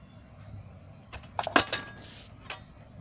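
A spoon clinks against a dish while a spoonful of oil is added to sifted cooked wheat flour for chakli dough, a few close metallic taps and rattles clustered mid-clip over a quiet kitchen background.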